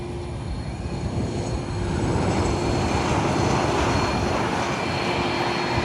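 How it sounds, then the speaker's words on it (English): A Boeing P-8 Poseidon lands at San Juan airport with a loud, continuous jet roar that swells slightly and holds steady throughout. "that's a fucking P8 Poseidon landing"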